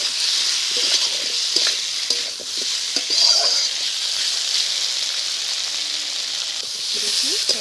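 Spices with ground coriander and ginger paste fry in a pan as tomato and green chili go in, giving a steady, close sizzling hiss with light stirring scrapes throughout and no voices.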